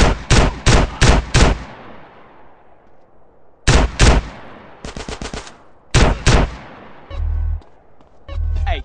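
Gunfire in GTA San Andreas: loud, close bursts of rapid shots in quick groups of four or five, separated by short pauses, with a few heavier thuds near the end.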